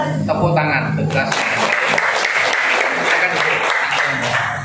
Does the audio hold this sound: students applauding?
yes